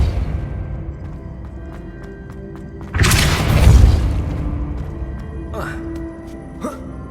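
Depulso spell impact in the Hogwarts Legacy video game: a sudden loud booming blast with a crashing burst that rumbles for about a second, followed by a couple of fainter whooshing effects, with a voice heard earlier.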